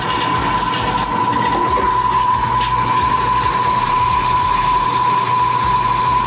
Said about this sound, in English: Look at how well balanced this motor is. How in the world does it run that rough?